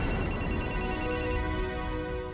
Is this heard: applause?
no